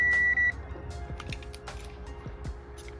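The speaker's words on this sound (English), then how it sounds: "I should get a beep on yellow. I do, which is cool." A short, clear electronic beep from a continuity tester checking a cable wire sounds once at the start, followed by quiet tapping and clicking in a still room.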